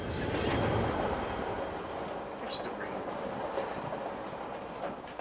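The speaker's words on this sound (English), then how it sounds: "a Royal Mail train made its run from Glasgow to London" Royal Mail mail train running on rails on the Glasgow to London route, a steady broadband rumble with faint rhythmic wheel clatter and brief metallic squeals, carrying on without pause.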